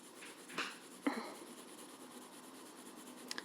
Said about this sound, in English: I'm using the 6B pencil and I'm very lightly moving around, overlapping what I've already done